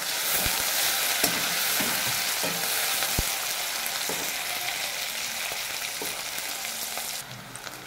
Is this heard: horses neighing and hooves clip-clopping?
no